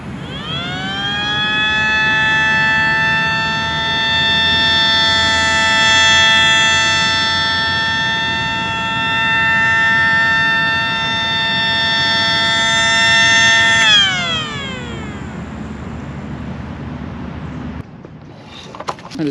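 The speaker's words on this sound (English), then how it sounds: "when power is cut to the siren, the head does continue to rotate, at least for a little bit" A civil defense siren wails loud and steady with a rotating head that makes the tone swell and fade, then power is cut and the pitch slides down as the head keeps turning before a clunk and quiet.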